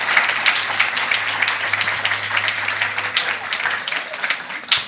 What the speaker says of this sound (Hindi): जोरदार ताली अपने खुदा के लिए